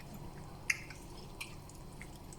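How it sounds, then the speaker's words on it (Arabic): Chicken pieces squeezed by hand in a yogurt marinade: a few soft, wet squelches over quiet near silence, close up. "بصوا بغرز بايدي كده عشان تتبل من جوه"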